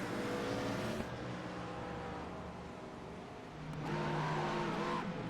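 Several GT3 race cars in a sim racing game at Zandvoort roar past in a close group, a steady engine drone that swells again as another car approaches near the end.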